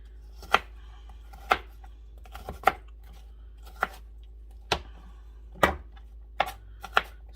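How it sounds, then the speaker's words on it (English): Onions being chopped with a knife on a cutting board, about a dozen sharp, separate knife strikes in an uneven rhythm, close and alone in a quiet kitchen. "get all your onions all chopped up, diced up"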